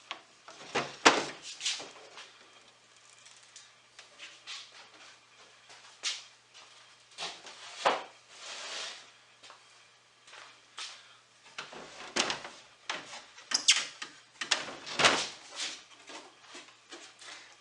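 Wooden drawers from a mid-century modern chest are pulled out and handled, giving a series of close, irregular scrapes, knocks and thumps scattered across the stretch with quiet gaps between them.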